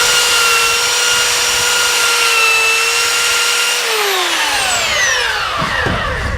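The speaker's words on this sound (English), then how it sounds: "First thing I'm gonna do with my sander is I'm going to clean this belt off with the belt cleaner." A belt sander runs steadily with a loud, whining hum while a belt cleaner is pressed against the moving belt, then the motor winds down with a falling pitch at the end.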